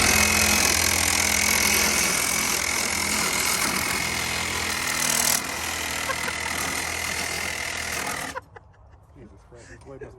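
A power saw cuts through engine parts while a Mercedes E300 diesel engine is being removed. The loud, steady grinding runs for about eight seconds and then stops abruptly, leaving quiet shop noise.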